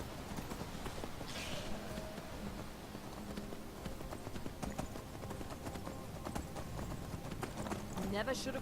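A horse's hooves clip-clop steadily along a road in the video game Skyrim, a continuous trotting rhythm heard under a voice talking.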